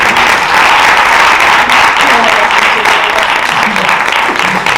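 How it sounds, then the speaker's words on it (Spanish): Loud, close audience applause filling the room as a guest is invited onstage, steady dense clapping throughout with voices talking and calling out underneath. "vamos a darle un aplauso"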